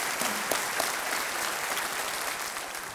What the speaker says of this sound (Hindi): तो हम एक बार फिर आपके लिए तालियां बजाएंगे